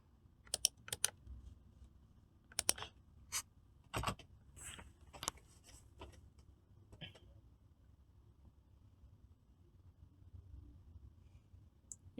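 Clacky computer keyboard typing of a terminal command: sharp key clicks in quick bursts early on, then sparser scattered taps, close and fairly faint over a quiet room hum.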